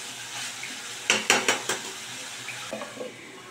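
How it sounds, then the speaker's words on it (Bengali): A pot lid is lifted off chicken kosha cooking on the stove, giving a short cluster of metallic clinks and scrapes over a low, quiet kitchen hiss. "আবার আমি ঢাকাটা তুলে নিলাম।"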